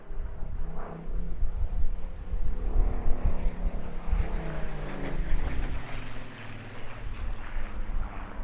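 A vintage propeller warplane, once flown with 16 Squadron, drones overhead at the Eastbourne International Airshow 2025, its steady engine rumble swelling and easing at a moderate distance under open sky.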